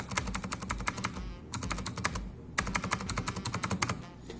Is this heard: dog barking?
no